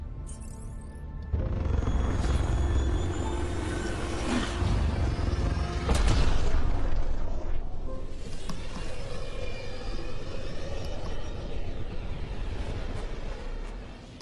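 Spaceship Tempest departs in a video game, a loud low rumbling engine roar that swells with a few booming surges and then settles into a sustained drone.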